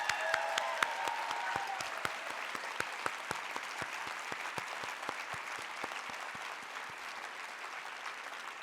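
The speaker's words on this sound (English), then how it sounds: "I think she deserves a big round of applause" An audience at a gun safety forum applauds with a dense, sustained round of clapping that holds steady for several seconds and then slowly thins as it fades.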